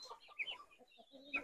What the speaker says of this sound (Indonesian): Ini lagi ngasih makan ayam, ayamnya muter aja tadi dari tadi di rumah